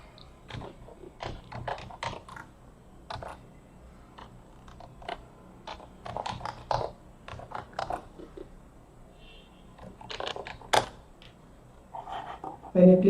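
Someone types an email address and password on a computer keyboard, with scattered quiet key clicks in uneven bursts and faint talk in the background.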